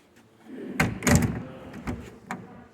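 The door of a small vintage Austin car is shut by hand, a close sequence of clunks and latch clicks with a couple of lighter knocks after the main thud.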